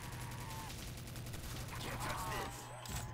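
Rapid, steady automatic fire from an M1927 submachine gun in a Call of Duty custom zombies game, a continuous rattling burst at moderate level with a player talking over it.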